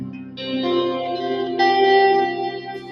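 Ambient electric guitar drenched in heavy reverb and chorus in an alternate tuning, sustained chords swelling and ringing out with layered, shimmering tails, played alone with no talking.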